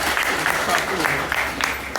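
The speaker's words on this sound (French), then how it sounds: "On applaudit pour Antoine de Saint-Denis." Audience clapping at a comedy show in France, a steady wash of applause filling the whole moment without pause, moderately loud with no speech over it.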